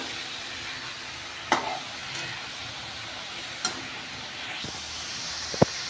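Vegetables sizzling and hissing in a hot pan with a steady frying hiss and a few sharp knocks of a spoon stirring, close and moderately loud.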